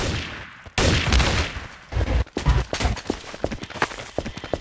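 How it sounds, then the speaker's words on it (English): Bursts of gunfire in the Trouble in Terrorist Town game, a loud rapid fusillade of shots with sharp repeated cracks and shifting volume, ringing out alone without talk. "who's shooting?"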